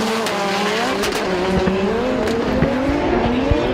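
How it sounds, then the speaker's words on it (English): A Formula Drift Japan competition car roars at full throttle, its engine holding a loud, sustained rising note with faint tire squeal, close and continuous throughout. "Getting out to full throttle early."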